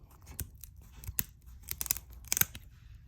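Kitchen shears snip the fins off a red snapper in a series of sharp, close crunching cuts, quiet and irregular, with no talk.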